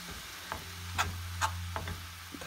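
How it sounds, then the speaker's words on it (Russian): Broth is added a little at a time to meat filling frying in a pan, giving several short, bright sizzling bursts over a low, steady hum, with no talking. "Далее заливаем бульон. Подливаем по чуть-чуть."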